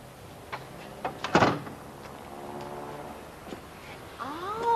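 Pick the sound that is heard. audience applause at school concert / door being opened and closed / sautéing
door being opened and closed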